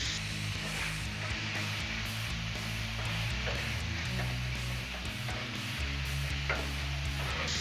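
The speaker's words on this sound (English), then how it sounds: "Now I'm gonna let this burger cook for just a little bit" A pub burger patty frying on a Blackstone griddle gives a steady, close sizzle with small pops and scraping clicks throughout, with no talking.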